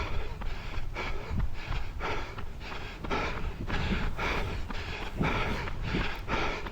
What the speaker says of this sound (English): I'm sort of a little bit out of breath at this point